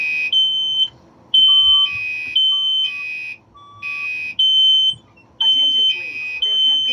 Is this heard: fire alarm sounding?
yes